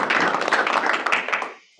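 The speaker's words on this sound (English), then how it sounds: "let's give a round of applause for Carol Lambert." A small team meeting crowd applauds a colleague, dense clapping from a few people nearby that holds for over a second and then fades out abruptly.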